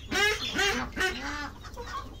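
A chicken clucks close by at a coop in a few short, rising bursts, then quieter clucks trail off, with no talking.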